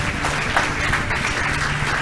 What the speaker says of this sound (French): Laissez-nous applaudir le frère, s'il vous plaît.